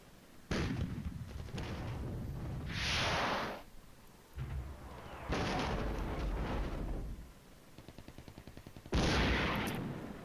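Gunfire and artillery in the Flashpoint Campaigns: Red Storm war game, several loud bursts of shots and booming blasts separated by short quieter gaps, ending with a rapid rattling volley.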